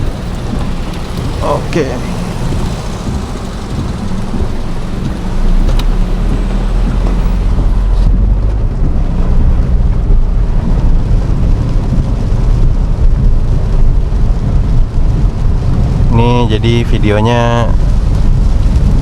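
Heavy rain pounds a Toyota Raize driving through flooded streets in Bandung, a steady close roar of rain and road noise lasting throughout while someone talks over it.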